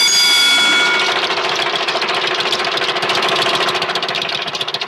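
A boat engine runs loud and close with a steady rapid knocking chug, carrying on continuously with no pauses and no talk over it.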